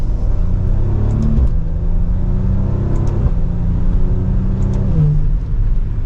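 Maserati Levante GranSport engine pulling up through the gears on the road, a steady rising drone that drops in pitch at each short shift, loud and continuous from inside the cabin.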